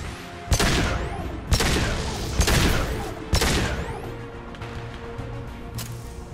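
Four heavy, widely spaced weapon blasts from a Mass Effect 2 firefight, each a sharp boom with a decaying tail, followed by quieter ambient combat rumble and faint impacts.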